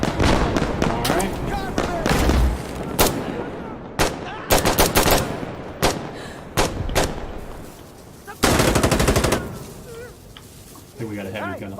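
Heavy machine gun fire in the video game Insurgency Sandstorm, sharp repeated bursts and single loud shots at close range, with a long sustained burst near the end amid other battle noise.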